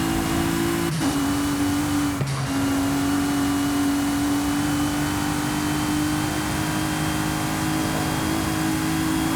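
A Bentley Continental Supersports with a W12 engine drones steadily in Forza Horizon 5, a loud sustained engine tone that dips briefly twice as if shifting, with no distinct blow-off valve release standing out.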